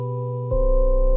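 Steady electronic radio tone of stacked sustained pitches, joined halfway through by a louder low buzzing layer that pulses gently, heard alone with no talk.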